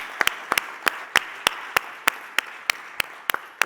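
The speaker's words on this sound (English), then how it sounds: "Let's give them a last round of applause" Sparse claps at an award ceremony for challenge participants, a dozen or so sharp, evenly spaced hand claps sounding close over quiet room noise.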